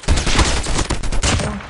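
Gunfire in the COD Mobile video game crackles as a dense, continuous rapid burst of shots, loud and unbroken throughout the short moment.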